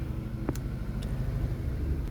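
A car rolls slowly down off a washing pad after a shampoo wash, giving a low, steady engine rumble close by with a couple of faint clicks and no talking.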